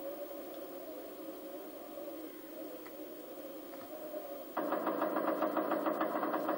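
A motorcycle engine in the PlayStation game Necronomicon idles with a low, even hum, then jumps to a louder, harsher rev near the end.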